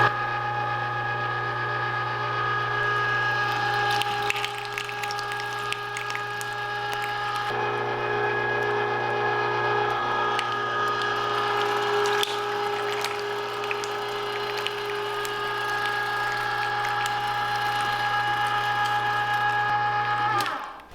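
A meat grinder with a wide throat grinds chunks of pork lard, giving a steady mechanical whir and ratcheting churn with a constant low motor hum, close and continuous throughout.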